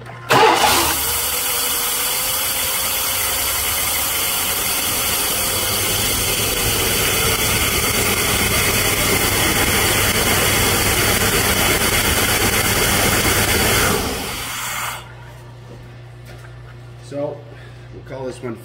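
A 1997 GM truck engine with a no-start fault cranks steadily and loudly for about fourteen seconds without catching, then cuts off, leaving a low hum and faint noises.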